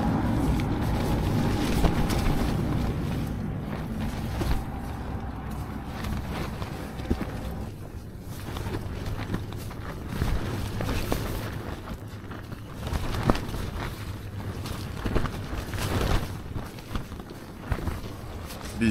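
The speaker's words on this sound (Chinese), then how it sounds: "这个风越来越大了，感觉帐篷有点扛不住了，噼里啪啦的。" Strong wind buffets a tent pitched outdoors on a cold morning, a continuous loud rushing and rumbling with irregular flapping gusts throughout, no voices.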